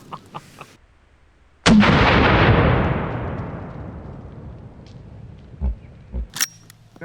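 .50 caliber rifle fired into pumpkins, a single very loud close blast with a long rumbling decay, framed by faint handling clicks and knocks before and after.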